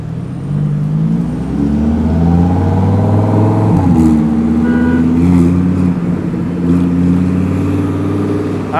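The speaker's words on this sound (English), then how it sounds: "Wonder if I'll be able to go faster than this Lamborghini next to me." A car engine hums loudly and steadily alongside an electric scooter ridden toward Miami Beach, with the tone rising and sliding as vehicles accelerate past, plus constant wind and road rumble, no speech.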